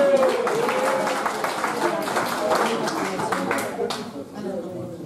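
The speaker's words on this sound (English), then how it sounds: "A proper round of applause." An audience claps steadily throughout a speech at a Lobby for Cyprus event, with a speaker's voice running over the continuous applause.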